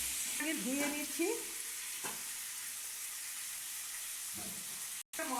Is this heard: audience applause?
no